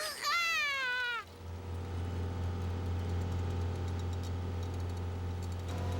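A cartoon sailboat's small motor hums steadily with a low, even drone after a short cat-like meow at the start, heard alone with no talk.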